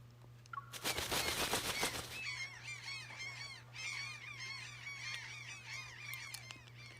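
Birds honk in a video game. A burst of rapid staccato clatter comes first, then a flock of goose-like birds honks repeatedly in quick, overlapping calls over a steady low hum.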